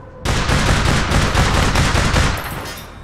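Rapid, continuous automatic gunfire in the online shooter APB Reloaded, loud and close, running for nearly three seconds as a dense burst.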